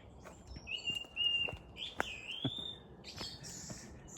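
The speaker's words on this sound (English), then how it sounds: "Blackbirds, I think." Blackbird calls ring out in short whistled phrases with brief pauses, moderately near, over a quiet outdoor background.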